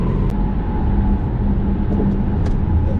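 Steady cabin noise in a Volvo XC60 T8 plug-in hybrid cruising at 130 km/h: a constant low road and wind rumble with a faint hum, no voices.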